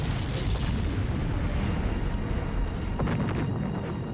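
A rocket exploding after launch gives a sustained, loud, rumbling roar with deep low-end energy and a crackling burst near the end, heard alone without talk.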